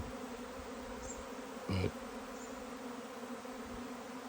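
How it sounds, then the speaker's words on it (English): A swarm of bees pours into a beehive, a steady close insect buzz holding throughout, with a brief louder burst about midway. "There's a lot of bees going into that bad boy."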